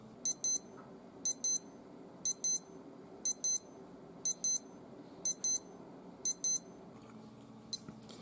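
A Casio AQ-230 digital watch alarm beeps in quick high-pitched double chirps, repeating about once a second for seven rounds, then one last brief beep, crisp and close in a quiet room.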